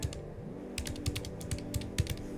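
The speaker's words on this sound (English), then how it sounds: "Ignore my typing." Rapid clattering keystrokes on a computer keyboard at close range, irregular bursts of taps with a few louder presses, with no talking over them.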